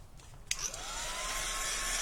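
A hair dryer drying red paint on a handmade woodland folio. A click starts it, then a steady whooshing roar rises and holds, close and loud, with no talk.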